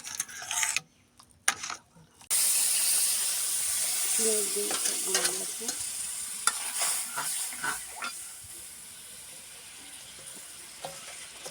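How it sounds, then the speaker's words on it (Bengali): A sweet mixture is stirred in a pan on the heat until it thickens, giving a steady scraping, sizzling churn that runs continuously and fairly loud after a brief pause near the start. "এই আমি এইটা পাক দিয়ে নেবো যতক্ষণ না গাঢ় হবে"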